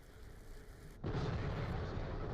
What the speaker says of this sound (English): Explode them rocks.